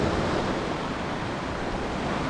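Atlantic Ocean waves at Delray Beach, Florida, by the dune area, give a steady broadband wash of surf mixed with wind rumble on the microphone, with no voices.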